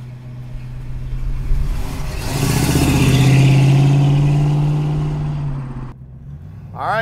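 A 1969 Ford Mustang Mach 1 with a 390 engine pulls away, its loud V8 rumble swelling as it accelerates and holds steady for several seconds, then dropping off sharply before another rev.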